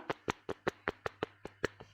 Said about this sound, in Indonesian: boleh kasih tepuk tangannya buat panitia pelaksana